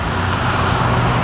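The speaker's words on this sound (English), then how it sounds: "Engine sounds are atrocious." Car engine roar with road noise, a loud, steady, broadband rumble lasting about a second, close by, with no other sounds over it.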